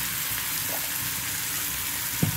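Tomato pieces fry in a hot pan for a potato, drumstick and tomato curry, giving a steady close sizzle with a brief louder splutter near the end.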